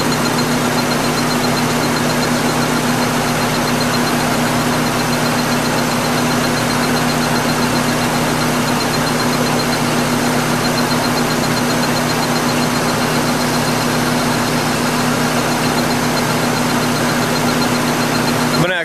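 A car engine idles steadily at close range with a constant low hum and a strong tonal drone, loud and unbroken throughout.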